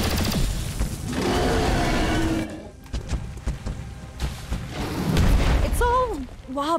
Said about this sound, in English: I'm gonna take the car explosion to the face.